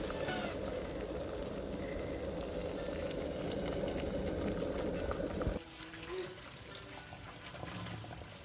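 Synthetic coloured wig simmering in a pot of boiling water: a steady, dense bubbling rumble that drops abruptly partway through to a quieter, sparser simmer.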